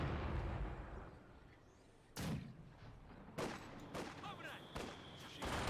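Soviet mortar fire in Company of Heroes 2 booms in the distance as a few heavy thuds spaced seconds apart over a constant rumbling battle bed, with a commentator's voice faintly underneath.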